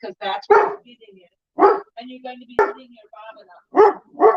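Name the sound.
dog barking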